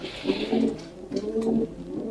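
Pigeons cooing in a morning setting, a series of soft, low, rolling coos repeating in a steady pattern, moderately near, with faint background noise and no talking.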